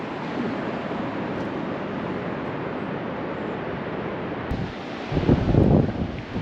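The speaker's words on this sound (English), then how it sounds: "It's a little windy out here today." Strong wind roars over the microphone on the Oregon coast at Lincoln City, with ocean surf washing beneath it; the rumble holds steady, then swells louder near the end.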